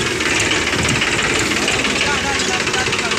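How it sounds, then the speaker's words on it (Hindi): Tractor engine running at a road construction site for a 20-foot road, a steady rumbling drone with a low knocking pulse, close and continuous throughout. "ट्रैक्टर चल रहा है"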